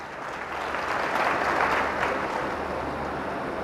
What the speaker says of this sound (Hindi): ताली तो जोरदार बजा दो यार।